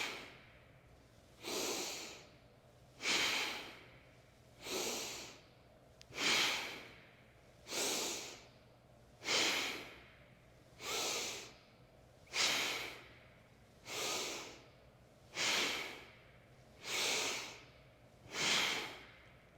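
Bhastrika bellows breathing, a rapid forceful yoga breathwork exercise: about a dozen loud, close breaths in a steady even rhythm, each a strong rushing burst, with no talking.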